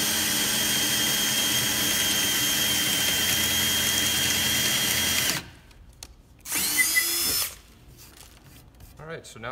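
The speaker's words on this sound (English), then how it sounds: "so we drill as straight as we possibly can." A power drill boring mortise holes into a log whines loudly and steadily for several seconds, then stops, briefly bursts again, and cuts out, leaving quiet background.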